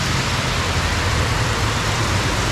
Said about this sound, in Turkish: Ama çok fena yağıyor.